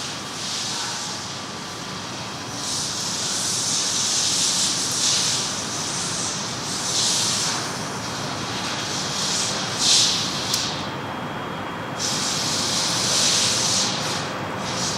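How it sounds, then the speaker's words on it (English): SpaceX Falcon 9 first stage performing its landing burn on a Starlink mission from SLC-40 at Cape Canaveral, a steady broad roaring rumble with hissy swells lasting throughout, distant and continuous with no talk. "Stage 1 landing burn."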